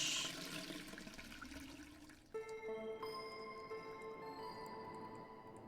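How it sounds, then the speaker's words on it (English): A toilet flushes in The Darkside Detective, a single rushing whoosh of water draining that cuts off abruptly midway, followed by soft tonal game ambience and faint chimes. "Flush."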